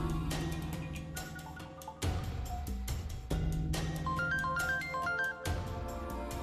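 A melodic phone ringtone plays loudly and steadily in an indoor domestic scene from a Marathi TV serial, its repeating electronic tones with a brief dip before continuing.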